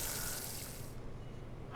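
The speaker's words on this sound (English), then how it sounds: "I turn the faucets. Water begins running into the sink." Water gushes steadily from a turned faucet into a sink in the horror visual novel game Spirit Hunter NG, a loud continuous hiss that thins in its upper range partway through, with no voices.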